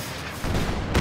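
Company of Heroes 2 battle: gunfire and artillery-like booms burst in loudly, a dense mix of shots building up after a short quieter start.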